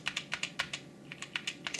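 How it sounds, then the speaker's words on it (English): Typing on an SK61 61-key hot-swappable mechanical keyboard produces a quick, fairly loud run of sharp key clacks in an uneven rhythm, with a brief pause midway. "let me just type for a sec"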